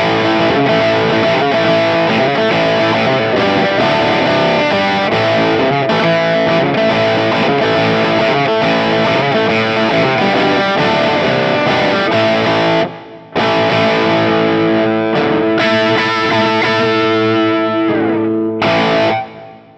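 A heavily distorted electric guitar plays a cover-song riff through an Axe-FX III preset with drive, amp, EQ, pitch, gate, reverb, delay and cab blocks, loud, chugging and sustained, with a brief break near the end.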